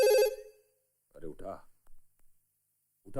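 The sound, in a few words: telephone ringing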